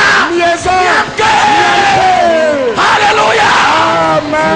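A crowd at an evangelistic crusade in Bassa, Togo, roars and cheers loudly in sustained waves of shouts and whoops acclaiming the evangelist, with voices rising and falling over several seconds.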